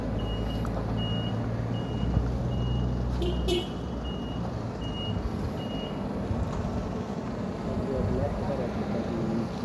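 A mobile charging truck reverses beside an electric intercity bus, its backup alarm beeping in an even repeating rhythm over a loud, steady engine and traffic rumble, with people talking nearby.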